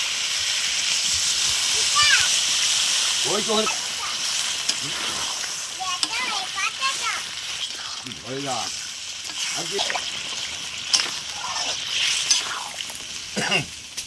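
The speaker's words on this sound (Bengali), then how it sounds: "এইবারে জল দিয়ে দেবো। দিয়ে দিচ্ছি।" Water is poured into a hot pan of chicken cooked down with hill potatoes, giving a steady loud hiss and sizzle throughout, with brief voices speaking faintly in the background.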